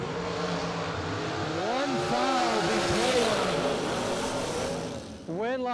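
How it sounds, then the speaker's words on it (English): Dragsters roar at an SFG bracket drag race, a loud sustained engine blare with rising and falling tonal sweeps as the cars launch and pass, and a fresh revving burst near the end, with a commentator's voice over the noise. "we're at a SFG bracket race watching dragsters"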